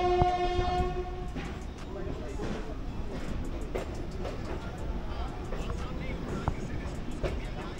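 Busy Howrah Junction station, a train horn sounding briefly at first, then a dense hum of rolling stock, clanks and crowd chatter continuing throughout.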